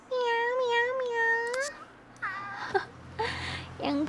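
A kitten in The Sims 3 gives a quick series of high, wavering meows, then a few more shorter mews after a brief pause, close and clear.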